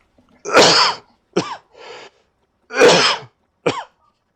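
A character in the video game We Happy Few coughs in harsh, separate bursts, with a pattern of long, short, and faint rasps repeating twice, close and clear against silence.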